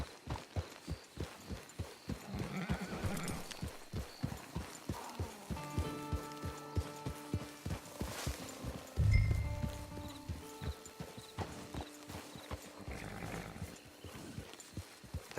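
Horse hooves clip-clop in the open-world western game Red Dead Redemption 2, a steady walking rhythm of soft thuds repeating throughout, moderately close and quiet, with a brief musical swell and low rumble midway.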